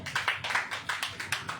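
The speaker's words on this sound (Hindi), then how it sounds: "हमें ताली बजाइए।" A church congregation claps hands in quick rhythmic bursts, a group clapping together in a steady, even beat at moderate loudness with no talk over it.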